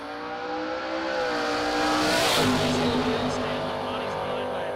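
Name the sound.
drag race cars launching down the strip at Xtreme Raceway Park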